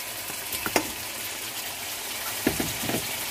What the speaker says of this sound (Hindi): इसको अच्छे से फ्राई करते हैं, हमारा अच्छा सा फ्राई हो रहा है